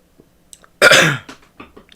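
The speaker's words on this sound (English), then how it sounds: "I need to clear my throat." A man clears his throat once, close and loud, in a single harsh rasping burst set among a few faint small mouth and movement noises in an otherwise quiet room.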